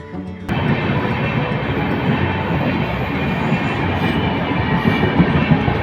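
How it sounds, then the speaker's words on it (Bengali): A trial run of an electric locomotive at Bamanhat railway station, heard as a loud, close, continuous rumble and clatter of rolling rail wheels that starts abruptly and holds steady, with no voices. "Cooch Behar railway station electric লোকোমোটিভের trial run হয়ে গেছে"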